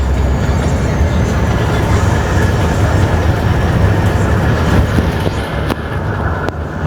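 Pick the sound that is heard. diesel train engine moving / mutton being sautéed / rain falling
diesel train engine moving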